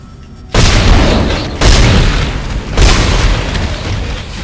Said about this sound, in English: Contact beam. I believe that's basically the game's rocket launcher.